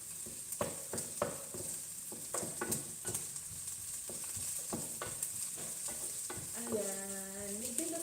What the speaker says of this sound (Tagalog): Medyo luto na ang ating sibuyas muna.